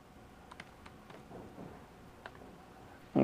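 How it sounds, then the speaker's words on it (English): Light, scattered keystrokes on a computer keyboard during a coding talk, soft irregular taps over a low background hiss, ending with a sudden loud burst. "I'm going to spare you guys the embarrassment of me typing."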